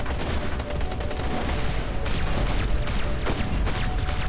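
Spaceship guns blasting in the space combat game Everspace 2, rapid repeated shots forming a loud continuous fusillade with sharp bursts over a steady roar, no talking.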